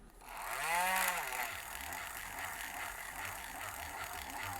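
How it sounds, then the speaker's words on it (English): A Scotch-Brite wheel spins up with a rising whine, then grinds steadily against a metal clutch bell, scuffing off its black oxide coating in a close, continuous rasp. "I like to kind of scuff off the black oxide just because it allows the clutch to grab a little bit better"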